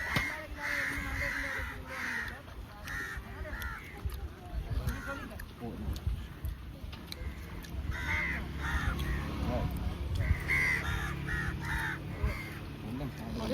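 Crows caw repeatedly amid a busy outdoor background, with people talking nearby and other noise mixed in.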